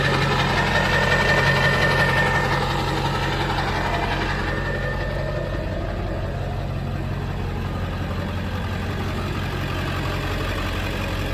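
An old, cheap diesel truck engine idles close by with a steady, rough knocking rumble that continues evenly throughout.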